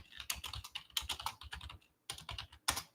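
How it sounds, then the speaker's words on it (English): Quick typing on a computer keyboard, close and clear, in rapid clicky bursts with one short pause midway. "I'm going to type it into the comment field."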